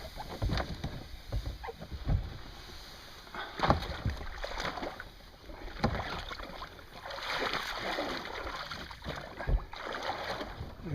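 Paddle strokes dip and splash beside a canoe on the St Marys River, irregular sloshing pulls every second or two with soft water movement between them, close and fairly quiet in the open air.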